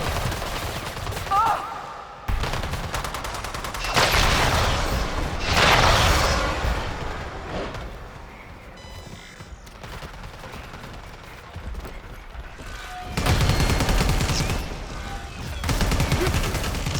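Video game gunfire: bursts of rapid automatic shots come in several loud clusters separated by quieter stretches, with mechanical clanks and game effects and occasional voices in between.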